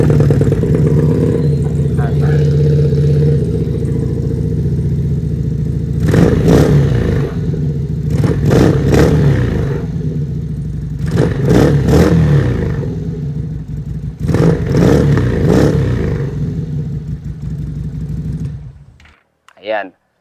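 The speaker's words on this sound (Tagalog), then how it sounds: "So, distinguishable talaga yung tunog ng mga V-twin ano." FKM Victorino 250i V-twin motorcycle idling with a deep, loud, steady throb, broken by several sharp throttle blips, then cut off abruptly at the end.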